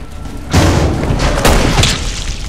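A character's head explodes in Resident Evil 6, a loud, deep boom that hits suddenly and rumbles on, with a second heavy burst partway through and no voices.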